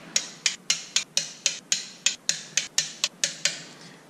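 A torque wrench ratchets steadily while tightening clutch bolts on an RBM3, making a fast, even run of about sixteen sharp metallic clicks, close up and with no talking.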